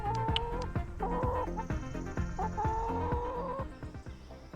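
Chickens clucking and squawking in a video game demo, several short repeated calls in quick succession, close and fairly clear, with no talk over them.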